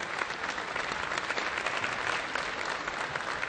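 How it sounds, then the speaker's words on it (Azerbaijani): Steady applause from an audience at an olympiad award ceremony, dense and continuous clapping throughout with no talk. "Let me introduce the applause for your country and for our country"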